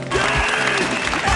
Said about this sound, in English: That cheering.